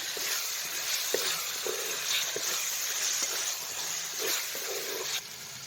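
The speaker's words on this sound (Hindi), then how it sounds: "अब हम इसमें शिमला मिर्च ऐड करेंगे, मिक्स करेंगे अच्छी तरह से।" Capsicum being stirred into a masaledar mixed vegetable sabzi, with steady close sizzling and frying hiss broken by repeated soft scrapes of a spoon through the pan.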